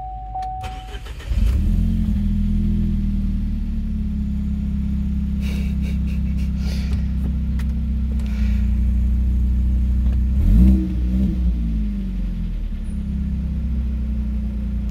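A rebuilt Nissan A20NFT engine starts up and settles into a loud, steady idle with a dense low rumble, with a short blip of revving near the end; no voices.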